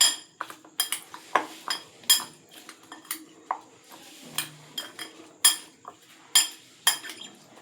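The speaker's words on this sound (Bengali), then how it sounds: "দিয়ে এটাকে ভালো করে আমি মিক্সড করে নেব" A spoon clinks and scrapes repeatedly against a bowl while guava chaat is mixed with sauce and tamarind puree, giving sharp, irregular taps close by with quiet gaps between them.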